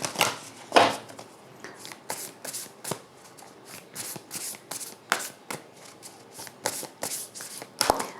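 Tarot cards shuffled by hand in a steady run of crisp riffling and flicking bursts, close and fairly quiet, with a few sharper slaps, no talking.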